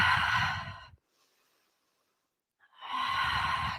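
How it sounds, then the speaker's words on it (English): Ujjayi yoga breathing during a power vinyasa class, heard as two long, close, rushing breaths, one exhale and then an inhale, separated by about a second and a half of near silence. "staying true to our Ujjayi breath here"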